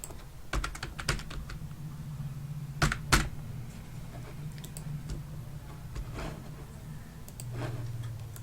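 Someone types CSS code on a computer keyboard, with scattered keystrokes and a few quick bursts of clicks, close and fairly crisp over a low steady hum, with no talking.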